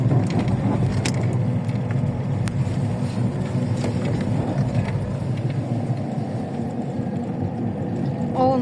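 A car towing a trailer rolls slowly toward the village dump, giving a steady, close low rumble of engine and road noise with faint rattles, no voices.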